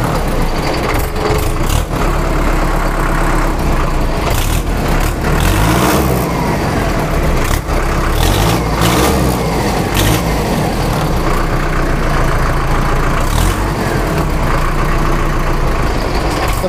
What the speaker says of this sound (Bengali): যাদের পছন্দ, ইঞ্জিনের সাউন্ডটা শুনতেই পারছেন